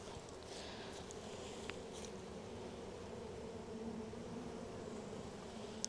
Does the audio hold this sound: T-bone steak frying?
no